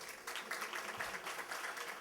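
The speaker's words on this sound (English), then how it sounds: "Round of applause for her." An audience at a graduation gala gives a round of applause, a steady, distant wash of many hands clapping that is faint and continuous throughout.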